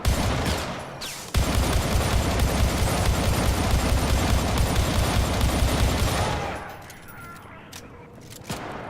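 Dense, rapid gunfire from the video game Syndicate (2012) rattles loudly in a sustained burst of overlapping shots for about five seconds, then cuts away to a quieter lull with a few scattered sounds.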